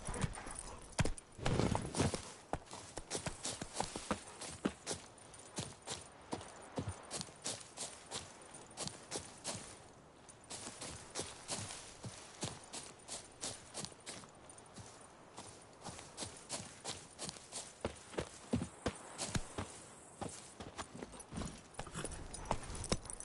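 Roach, Geralt's horse in The Witcher 3 on PS5 Pro, gallops with steady, rhythmic clip-clopping hoofbeats, close and clear, continuing for over twenty seconds with brief uneven patches and a short lull near the middle.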